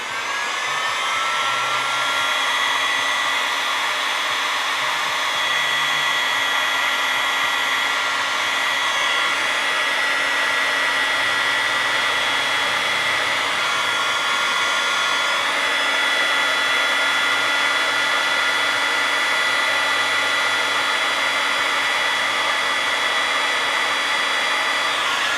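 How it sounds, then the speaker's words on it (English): Heat gun blowing hot air over a solderless wire connector, a loud, close, continuous whooshing roar with a steady whine that holds unchanged throughout, no voices. "And the heat gun again."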